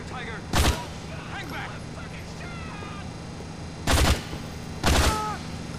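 Gunfire from a hallway shootout in the video game GTA IV: three loud, sharp bursts, one near the start and two close together later, with game chatter and voices underneath.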